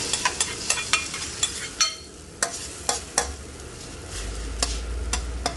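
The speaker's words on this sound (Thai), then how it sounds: "พอน้ำมันเริ่มร้อนเราก็ใส่ไข่กับชะอมลงไปค่ะ" Egg with cha-om (acacia shoots) goes into a pan of hot oil. A steady frying sizzle runs throughout, with a series of sharp scraping or stirring knocks at irregular intervals. A low rumble enters near the end. No one speaks.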